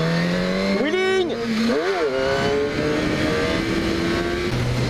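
A motorcycle engine revs hard in rising and falling sweeps during a wheelie on a wet road with small bends, loud and close, then settles into a steady drone.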